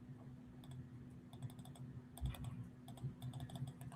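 Quiet rapid clicks and taps at a computer keyboard and mouse, scattered irregular bursts over a steady low hum.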